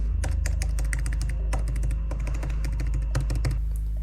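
Rapid, steady typing on the scissor-switch keys of an Apple iPad Pro Magic Keyboard, with close, crisp clicks in quick rhythmic bursts and no voices.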